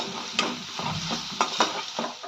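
A Frankie masala and salt mixture is stirred in a frying pan, with a steady soft sizzle broken by several sharp spoon scrapes and clicks against the pan, close and loud with no talk.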